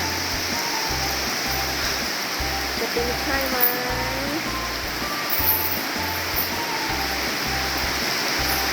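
Heavy rain and flowing water around a baby elephant keep up a steady broadband hiss, while a person talks over it with small excited calls.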